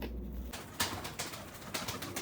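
Pigeons cooing softly in a loft in Almaty, low calls with a few sharper sounds, quiet and close.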